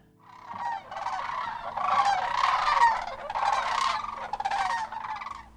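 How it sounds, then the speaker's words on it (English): Sandhill cranes give a continuous chorus of rolling, bugling calls, several birds overlapping loudly and steadily with no voices over them. "Sandhill cranes are among the world's oldest known bird species"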